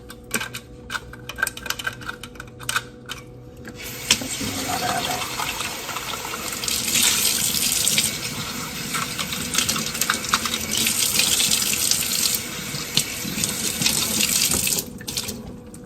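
Water runs steadily from a kitchen faucet over plastic parts of a TUUMIIST juicer being rinsed in a sink, a quieter trickle for the first few seconds before swelling into a full, continuous gush close to the microphone.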